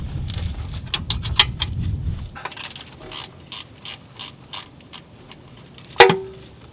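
Ratchet wrench clicking in quick bursts while loosening bolts from a starter cover on a transmission at a salvage yard, with a low rumble at first and a sharp metallic clank near the end.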